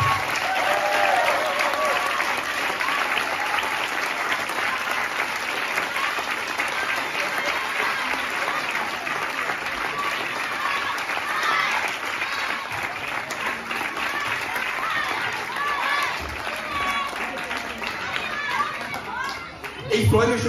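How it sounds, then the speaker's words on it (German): A crowd claps loudly and continuously for children at a children's music festival, sustained dense applause with some chatter mixed in throughout. "kriegen jetzt die Kinder noch mal einen fetten Applaus"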